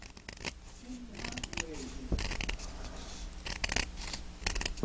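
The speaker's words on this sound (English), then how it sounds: "And now I'm going to take this piece and I'm just going to cut it in half." Scissors cut a piece of cardstock paper in half with repeated close, crisp snipping strokes, while a voice speaks briefly in the background.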